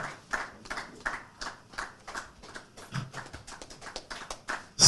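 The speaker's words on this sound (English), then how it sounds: "Keep clapping for him." Scattered clapping from a small audience at an investiture and induction ceremony, a few pairs of hands tapping out uneven, overlapping claps that pulse and fade in waves without any talk.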